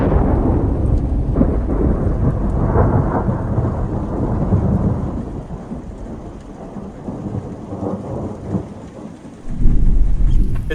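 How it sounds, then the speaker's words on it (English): Heavy rain pours steadily while deep rolling thunder rumbles through, with a fresh loud crack of thunder near the end. "Not only is it raining, but there's some pretty big lightning."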